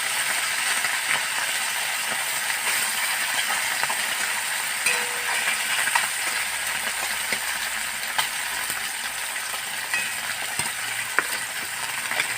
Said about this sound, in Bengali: এই অল্প অল্প করে মাছগুলো আমি ভেজে নেব।